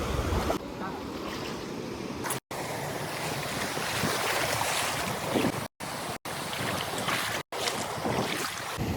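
Sea waves roll and crash at Rushikonda beach in Vizag, a steady close roar of surf mixed with wind buffeting, broken by a few brief dropouts.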